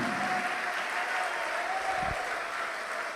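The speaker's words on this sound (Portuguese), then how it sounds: "Igreja, aplauda com alegria." Church congregation applauding with joy during a Portuguese-language service, a steady, even wash of crowd clapping with a faint sustained tone and one brief low thump.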